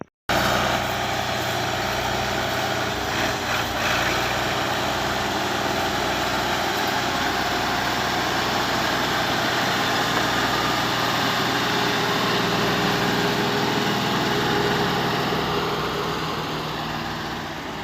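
A 1979 Ford 4600 tractor engine idles steadily and fairly loudly throughout, a continuous even diesel rumble with no speech over it.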